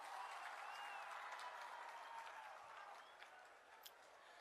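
A seated crowd at a swearing-in ceremony in Khatkar Kalan, Punjab, claps steadily to welcome ministers and 91 achievers. The applause is dense, continuous and somewhat distant, and it thins slightly toward the end.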